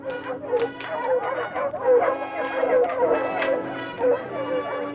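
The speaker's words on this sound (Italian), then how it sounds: "dai festosi latrati di una battuta a cinghiale" Hunting dogs bark excitedly during a wild boar hunt in Sardinia, a pack yelping and baying in rapid overlapping bursts at mid distance, steady through the stretch.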